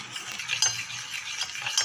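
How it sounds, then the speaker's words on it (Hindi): Butter melting in a pan on a low gas flame, stirred continuously for chocolate ganache, with close, steady scraping strokes and a faint sizzle throughout, no voices. "इसे अब हम चलाते रहेंगे कंटिन्यूसली"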